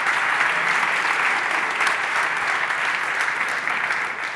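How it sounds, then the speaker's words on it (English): A conference audience at an inventors' award event applauds steadily, dense clapping holding at an even level for a few seconds without talk. "So yeah, you can applaud them."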